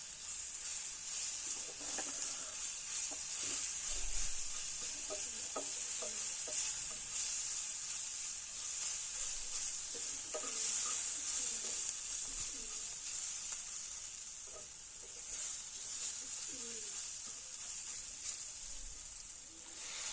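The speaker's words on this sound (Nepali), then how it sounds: "मजाले मसलाहरूलाई मिक्स गर्नुपर्छ सबै र पकाउनुपर्छ एकछिन काँचो स्मेल जाओस् भनेर" Spices with Kashmiri chilli powder fry in a pan for soya keema, a soft continuous sizzle with intermittent scraping as they are stirred, faint and steady with no voices.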